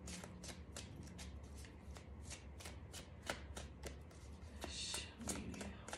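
A deck of tarot cards being shuffled close up, with a run of quick, soft riffling flicks and taps and a fuller burst of card rustling toward the end, all faint and quiet.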